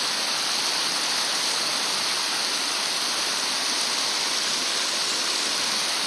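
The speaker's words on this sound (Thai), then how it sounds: "ฝ่ายน้ำล้นธรรมชาติครับเล็ก ๆ" Water pours steadily over a small natural weir in the countryside, a constant, full rushing hiss with no breaks, close and fairly loud throughout.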